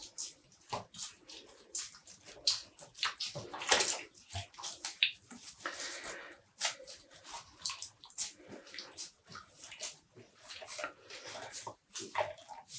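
Hands wring water out of freshly dyed yarn, producing repeated close squishes, trickles and drips in uneven bursts, with brief quieter gaps between squeezes.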